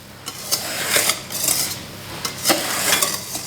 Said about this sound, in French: les incorporer donc avec le fouet ou avec une spatule, délicatement, donc avec un mouvement souple du poignet